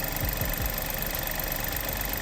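A fully warmed VW/Škoda 1.0 TSI engine idles on fresh 5W40 oil, giving an even, close-up drone with light rhythmic knocking underneath and no voices.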